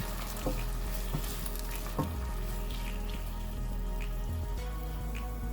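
Chopped tomatoes are stirred into a spinach and chicken curry that sizzles steadily in the pot, with a constant frying hiss and a few light scrapes of the spoon. No one speaks.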